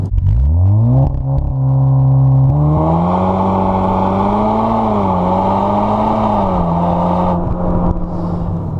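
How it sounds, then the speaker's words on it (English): A Mountune-tuned VW Golf R Mk7.5 launches in first gear on launch control. Its engine note climbs sharply, then holds a loud, strained high rev close by as the car pulls hard. "the initial launch in first gear is absolutely savage"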